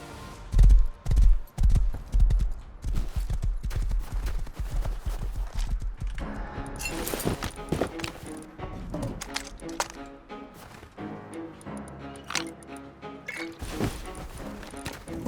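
Horse galloping in the survival game Rust, a rapid run of hoof clip-clops up close, with heavy thuds early on and cracking gunfire and impacts scattered around the hoofbeats.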